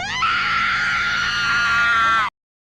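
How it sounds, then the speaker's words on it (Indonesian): A woman in a Thai horror film lets out one long, sustained hysterical scream, loud and shrill, held for about two seconds before cutting off abruptly into silence. "mendengar suara perempuan menjerit"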